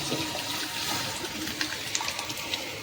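Boiled mung dal with vegetables pours into a pan with tomatoes, a continuous wet, gushing slosh of liquid at close range, with no talk.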